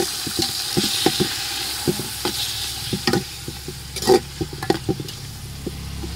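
Chicken meat with onion and garlic sizzles in a pot while a spoon stirs it, producing a steady frying hiss broken by repeated scraping clinks, close and moderately quiet.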